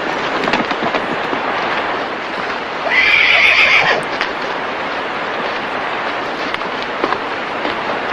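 A horse whinnies loudly for about a second, standing out from a rough outdoor Western film soundtrack with scattered thumps and clatter around it, and no speech.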